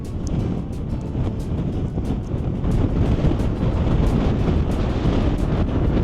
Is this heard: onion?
no